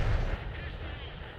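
A single tank cannon shot in World of Tanks lands as a heavy, low boom at the start and then rolls off into a fading rumble, fairly quiet overall.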